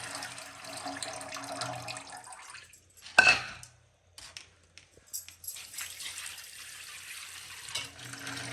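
Green peppercorns are rinsed under a running tap: a steady rushing stream cuts off abruptly with a sharp clack, then gives way to scattered drips, splashes and a returning flow.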